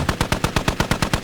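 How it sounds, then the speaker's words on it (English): Rapid automatic gunfire sprays in the realistic military shooter Squad, about ten sharp, evenly spaced shots in a loud, close burst with no talk. "huge spray of bullets, nothing hits me"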